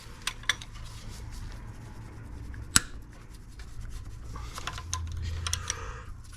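A bolt on the turbo oil feed pipe of a Mini Cooper D breaks loose with one sharp, loud crack. Quieter scraping and light clicking of tool work sits close around it.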